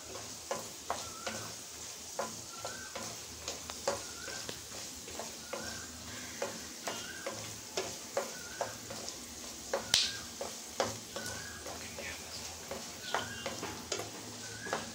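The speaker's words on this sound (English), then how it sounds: "add hing, then red chillies and allow it to splutter" Hing and red chillies spluttering in hot oil while making temple-style puliyodharai paste, a steady sizzle broken by a regular series of sharp pops and crackles, close and fairly loud, with no one talking.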